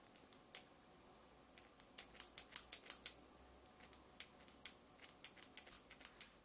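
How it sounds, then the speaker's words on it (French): Scissors snip through latex on a special effects prosthetic face, with a quick series of crisp, close cuts coming in clustered bursts over faint background hiss. "Maintenant, avec un ciseau, on va couper le latex."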